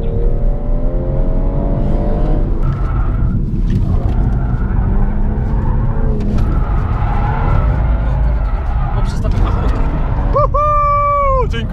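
A BMW drifts sideways at speed on an airport runway, its engine revving hard in rising and falling sweeps, with tyres squealing loudly near the end, and people talking over the noise.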